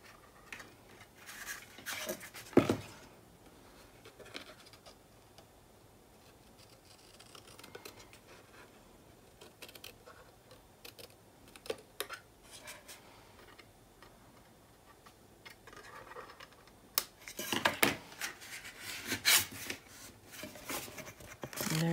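Scissors or a trimmer cut a paper album cover along an embossed mark, producing faint, scattered snips and scratches with a few sharper cuts and a louder run of cutting near the end, with no talk.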